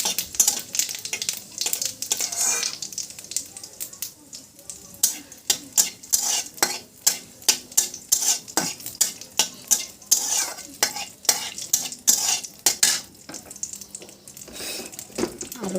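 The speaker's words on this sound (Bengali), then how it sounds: "ঝোলটা সম্বার দিয়ে দিব" Spices tempering in hot oil for a curry gravy in a pan, with crackling sizzle and repeated sharp clinks of a spoon stirring against the pan, close and fairly loud.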